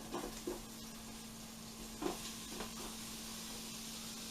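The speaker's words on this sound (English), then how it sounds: "Start throwing beef in there." Beef frying in a hot pan for chili, a steady low sizzle and hiss with a few soft stirring scrapes and clinks, close and fairly quiet.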